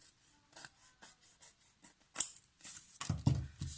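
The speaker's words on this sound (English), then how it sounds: "Maybe I'll just go to my guillotine and just cut that off" A paper guillotine slices through a sheet of old journal paper, heard as a sharp cutting swish followed by a heavier low thunk of the blade, after several soft rustles and taps of paper being handled.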